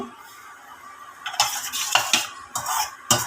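A utensil stirs and scrapes against a pan of bhetki fish in several quick strokes, with short bursts of metallic scraping between quieter moments.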